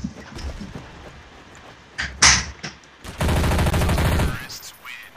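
Automatic MP5 gunfire in Counter-Strike: Source: a short burst near the middle, then a dense sustained volley of rapid shots for over a second, loud and close, with faint game sounds before it.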